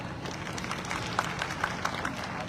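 Audience applause at a Hindi direct-selling gathering, a steady wash of many hands clapping at moderate distance with a few sharper claps standing out, no voices over it.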